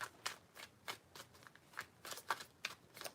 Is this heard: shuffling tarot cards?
yes